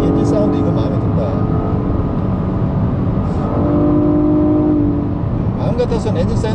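A Nissan Maxima's engine hums steadily from inside the cabin while driving, a constant broad drone mixed with road noise, loud and unbroken throughout.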